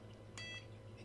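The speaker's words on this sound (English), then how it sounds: "The long beep obviously means it's centered." A Flysky i6 (Eachine i6) radio transmitter gives one clear, fairly long electronic beep as its trims center. The tone is steady, close and moderately loud over a low hum.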